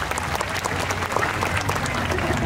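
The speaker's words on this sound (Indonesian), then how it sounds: "Tepuk tangan dong untuk mereka." Audience applause for children at a Quran memorization festival in Indonesia: sustained, dense clapping from a crowd, fairly loud and steady throughout, with faint voices mixed in.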